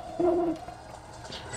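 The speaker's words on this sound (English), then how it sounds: "Not sure why there's doves in this haunted forest." In a haunted forest course of the Mario Kart video game, a dove gives a single low cooing call up close, short and clear at the start, followed by quiet game background.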